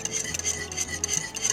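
A hand whisk beating a homemade casserole mixture in a bowl, rapid rhythmic scraping and clinking strokes repeating steadily, close up with no talk.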